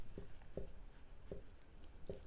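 Pen or marker writing by hand on a board while working a 9th standard geometry problem, heard as a few soft, separate scratchy strokes spaced irregularly against a quiet room.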